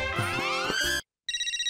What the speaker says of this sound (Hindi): विजय का फोन आ रहा है, क्या बोलूं?